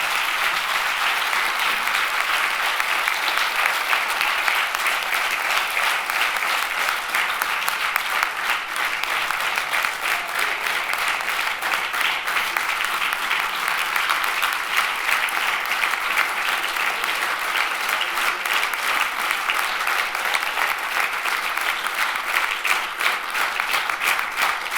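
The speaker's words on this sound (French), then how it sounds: "je vous demande de lui faire un tonnerre d'applaudissements" Thunderous applause from a large audience at a congress of French mayors, a dense, steady roar of many clapping hands sustained loud and even for the whole stretch, with no voices over it.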